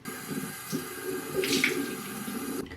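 Tap water runs steadily at a bathroom sink while a skin care item is rinsed, with a soft splashing burst midway through the flow.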